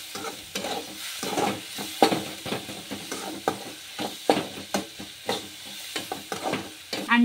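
Egg bhurji masala with turmeric and salt fries in a pan, a soft sizzle under frequent rhythmic scraping and stirring strokes, close and steady.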